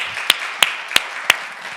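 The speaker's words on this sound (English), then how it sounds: "So let's give Savannah and Luke a round of applause for all their work." Clapping from an audience at a community planning talk: four sharp, evenly spaced claps stand out over a faint, steady background hiss.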